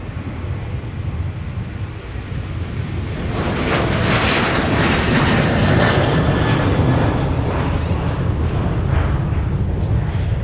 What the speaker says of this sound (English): So we wish Leah safe and fun travels aboard the big 777-300ER